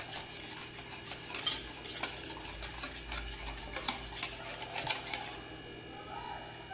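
A spoon stirs a sugar, salt and food colour mixture in a bowl for Kerala-style banana fritter batter, with soft repeated clinks and scrapes at a quiet, uneven rhythm, close by.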